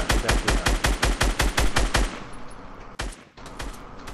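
Video game gunfire rings out as a rapid burst of about a dozen loud, evenly spaced shots, then a pause and a couple of further shots nearer the end.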